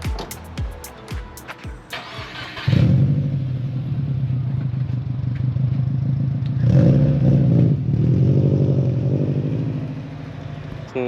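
A Subaru WRX (2008–2014 generation) fitted with a new Cobb turbo drives by, its engine rumbling loud and steady with a rising throaty note after a few seconds of lighter clatter.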